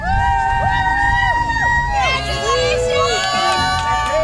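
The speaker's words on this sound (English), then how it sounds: "cheering on their kids" A close crowd at a 2020 graduation car parade cheers for the kids, with bright whooping shouts and rising and falling calls layered over constant babble.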